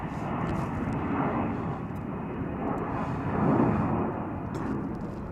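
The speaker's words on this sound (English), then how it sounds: "Coming in on an A350 tonight." A Lufthansa Airbus A350 arrives at Chicago O'Hare at night. Its jet engines make a loud, steady, broad roar that swells slightly midway and carries on without a break, with no talk over it.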